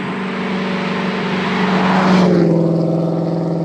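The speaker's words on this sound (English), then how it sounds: "the drone in here at high speeds is absolutely brutal" Loud, steady low drone inside the cabin of a Pontiac GTO at high speed, layered engine and road hum holding constant with a slight swell partway through, no talking.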